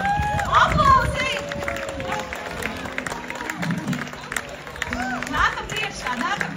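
A crowd applauds at a live event where men pour beer blindfolded, the clapping spread across the full stretch and mixed with voices and crowd chatter.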